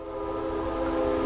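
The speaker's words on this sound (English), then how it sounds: "I don't know if you can hear the train. If you can, excuse the train. I live close to the railroad tracks." A train near railroad tracks gives a steady, sustained horn-like tone with a broad rumble beneath, heard at a moderate distance without any talking.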